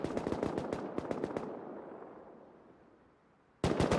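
Rapid bursts of automatic gunfire in the survival game Rust during a clan battle, loud and close, fading into a quiet tail before another sharp volley erupts at the end.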